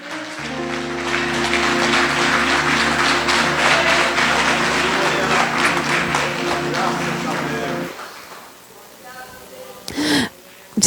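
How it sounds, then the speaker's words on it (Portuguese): Congregation clapping during a Sunday church service, dense rhythmic applause over a sustained musical drone for several seconds, then stopping abruptly into quieter room sound with a brief voice. "as palmas engrandecem o nome dEle"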